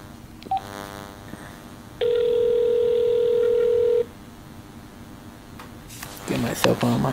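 A telephone line on a Google Voice home phone setup dialing out: a loud, steady tone holds for about two seconds over a quiet background hum, then stops, with brief voices and rustling near the end.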